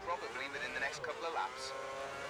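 An F1 2010 racing car engine in the video game revs high and steady around Monaco, with a continuous whining drone that rises and falls in pitch under a commentator's speech.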